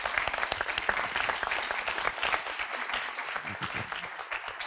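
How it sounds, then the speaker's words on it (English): An audience at a Northwestern economics and policy event applauding, a dense steady patter of many hands clapping throughout, moderately loud and filling the room. "give us some applause to say thank you to these guys for doing this"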